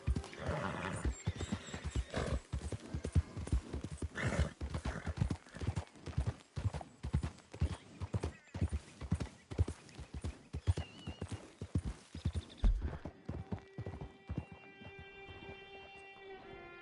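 Horse hooves clip-clop in a fast, steady rhythm through most of the stretch in the Red Dead Online video game, then fall away as a tonal whinny rings out near the end; loud and close, with no talk.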